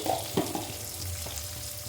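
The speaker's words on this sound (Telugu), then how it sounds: "సాల్ట్ వేయడం వల్ల తొందరగా ఫ్రై అవుతుంది ఆనియన్." Chopped onions fry with a pinch of salt in a pan for Rayalaseema-style uggani, a steady close sizzle broken by a few scraping stirs of a spoon.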